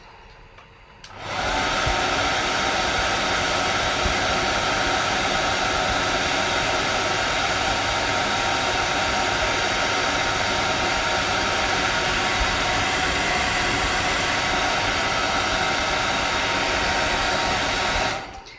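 A hair dryer switches on and blows loud and close in a steady, unbroken roar for about seventeen seconds while drying paint on a drawing, then cuts off at the end.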